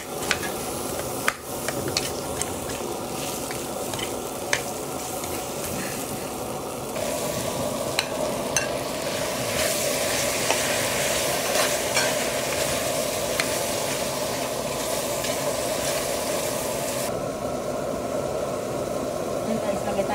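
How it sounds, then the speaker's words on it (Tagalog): Garlic and onion sautéing in a pan while chicken is cooked for lunch, a steady sizzle with occasional stirring scrapes running throughout and growing brighter midway, voices talking over it. "Isa na natin yung bawang sibuyas guys."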